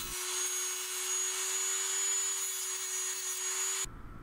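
A Dremel rotary tool fitted with a cutoff wheel slices through tricopter booms, giving a steady, loud high-pitched grinding whine with a constant drone that runs unbroken for nearly four seconds and then cuts off abruptly.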